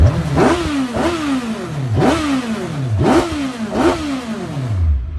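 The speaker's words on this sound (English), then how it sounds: "Just listen to that engine" A Suzuki Hayabusa engine in an MK Indy RR car revs hard in repeated rising bursts, about five loud close pulls in quick succession with rough, raspy character.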